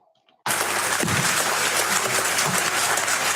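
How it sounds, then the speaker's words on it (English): A burst of applause breaks out suddenly in parliament after a near-silent moment, dense and sustained clapping from many people, with a few faint voices mixed in. "People are clapping hands."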